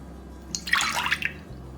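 Buttermilk is poured into a large bowl, a short, close splashing glug of liquid lasting about a second, with no talk over it.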